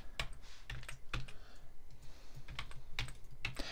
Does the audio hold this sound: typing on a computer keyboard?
yes